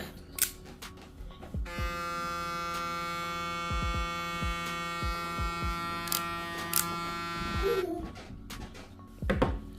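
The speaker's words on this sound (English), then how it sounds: "Okay, and the clipper. Okay, so now let's make our sound check." A TPOB Goblin hair clipper switches on and runs with a steady, close electric buzz for several seconds before cutting off, with a few soft clicks and handling knocks around it.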